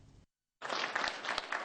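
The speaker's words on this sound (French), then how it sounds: "Applaudissements dans la salle." After a brief silence, a burst of steady applause rises in a hall at a customs training event and continues at moderate loudness with no talk.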